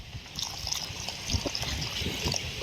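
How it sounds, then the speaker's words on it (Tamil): Water poured from a container into a pot of dried anchovy curry on the stove, a steady close trickling and splashing stream that continues for a few seconds without speech. "இப்போ நம்ம தேவையான அளவுக்கு தண்ணியை வீத்தணும்"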